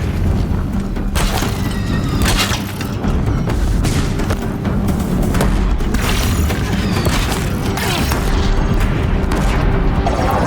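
Deathbringer war machines in Horizon Zero Dawn pound a bridge with heavy booming fire, layered with mechanical clanks and rumbling blasts, dense and loud throughout.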